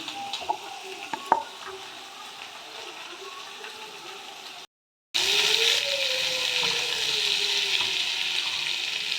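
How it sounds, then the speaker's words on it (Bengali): Potato and pumpkin pieces frying together in a pan make a steady sizzle, with a brief silent break partway through before the frying noise returns louder and continues unbroken to the end. "এই আলু কুমড়ো এবার একসাথে আমি ভেজে নেব"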